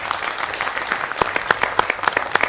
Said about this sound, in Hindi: तो जोरदार तालियां पहले तो श्रीवास्तव जी के लिए